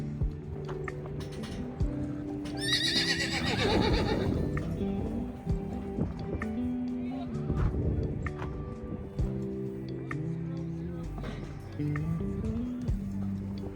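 Mustang horses whinny and neigh during sorting in a pen, with a loud drawn-out neigh early on amid shuffling hooves and background commotion, and quieter calls and movement afterward.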